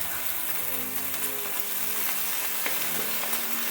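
Slices of spiral cut ham fry in a pan, a steady close crackling sizzle with faint popping throughout and no talk.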